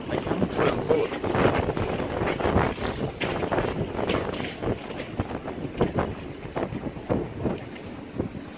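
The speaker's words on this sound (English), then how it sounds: "we're still got plenty of gusts coming through. They come through in bullets." Strong wind gusts buffet a sailing boat at anchor off Deal Island, roaring and surging in uneven waves across the microphone with rushing, flapping noise, and a voice talks underneath.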